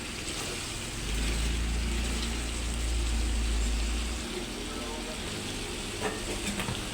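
A pan of chicken liver adobo with sliced potatoes sizzles steadily while being stirred, a continuous bright frying hiss with a low rumble swelling through the middle of the stretch.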